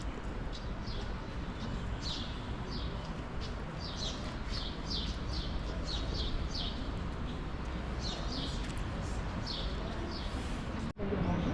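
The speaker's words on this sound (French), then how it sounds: "On entend les petits oiseaux." Small birds chirp throughout an outdoor scene in Andorra, quick bright bursts of tweets repeating every second or so, moderately close above a steady background hiss, with a brief knock near the end.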